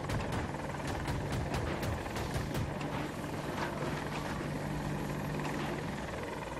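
Attack helicopter in a battlefield video game, its rotor thumping in a steady loud drone with rapid pulsing blade chops throughout, close and continuous with no voices.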